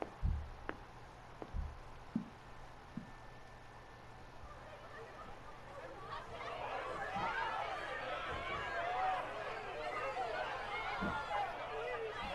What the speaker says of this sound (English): Talk about a crowd. Like the whole city's come to watch.